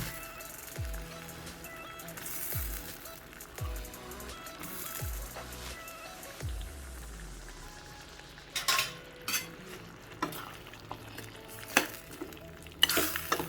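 Soya chunks (meal maker) for a soya gravy being stirred in a pan, with a steady frying sizzle, scraping spoon strokes and clinks of utensils against the pan, close and moderately loud with no talk.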